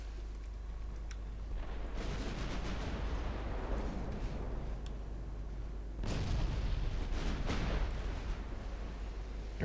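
Naval guns fire in the warship game Ultimate Admiral Dreadnoughts, with two heavy bursts of booming, rumbling blasts about four seconds apart. Each burst hits hard and then rolls away over a low, constant drone.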